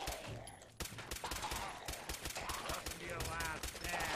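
Rapid automatic gunfire in the video game Fallout 4, a dense stream of close, sharp shots in quick bursts running throughout, with a short pause near the start.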